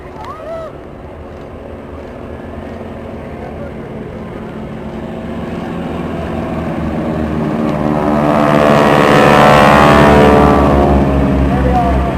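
A propeller aircraft with a multi-wing structure flies past at the Sunderland Airshow 2014, its droning engine swelling steadily louder as it approaches, with a commentator talking over it.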